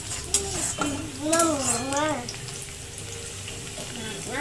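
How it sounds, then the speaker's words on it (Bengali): Onions are stir-fried in a pan until browned, with soft sizzling and occasional spoon scrapes and clinks beneath a voice talking throughout. "এবার পেঁয়াজটা ভালো করে লাল করতে হবে।"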